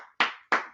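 Two sharp hand claps from a class, spaced about a third of a second apart, close and distinct, with a faint voice just before.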